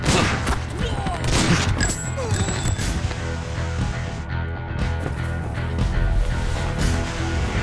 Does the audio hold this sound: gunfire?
yes